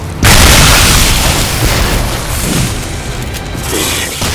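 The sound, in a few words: snake enemy exploding in the video game Shadow Warrior 2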